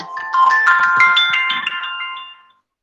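Phone ringtone from an incoming call during an online seminar, a bright melodic chime of several rising tones lasting about two seconds before cutting off, heard alone and fairly loud.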